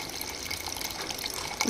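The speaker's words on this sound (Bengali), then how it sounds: "ওই মিনিমাম লেখা অবধি জল দিয়ে দিলাম" Water pouring steadily into a new kitchen appliance up to its minimum fill line, a close splashing rush heard under a speaking voice.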